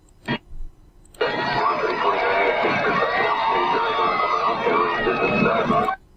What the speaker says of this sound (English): You hear some people screaming.